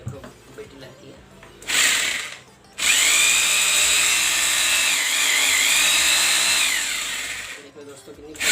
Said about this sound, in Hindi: दोस्तों ये जो नवी ड्रिल मशीन आती है इसमें मैं लगा के दिखाता हूँ आपको।